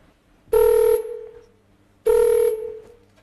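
A telephone rings twice while a call is placed. Each ring is a loud, even tone of about half a second, the two separated by a short pause, with no voices.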